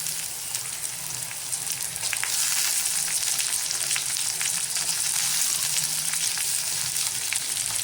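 Tomatoes sizzle and fry in a pan for a Sankranti bhogichi bhaji, a loud, dense crackling hiss that swells as they go in, with light scraping from stirring throughout.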